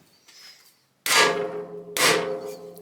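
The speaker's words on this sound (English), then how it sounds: "I'm going to hit that with a hammer." Two sharp metallic hammer strikes on a castle nut of an MGB subframe, about a second apart, each ringing briefly, after a faint scrape.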